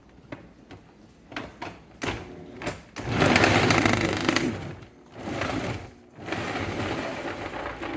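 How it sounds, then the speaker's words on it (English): A food processor grinds cheese, starting with a few short mechanical pulses and clunks, then running in loud sustained whirring bursts separated by brief stops. "we're just going to drop this into the food processor, give her the old grind up on that one"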